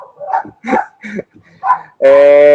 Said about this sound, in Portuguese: Tem um cachorro solto aí.